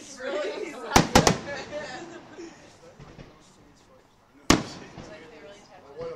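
Fireworks go off in a Fourth of July style display: a quick cluster of sharp cracking bangs, a quieter stretch, then another loud pop, with people chatting in between.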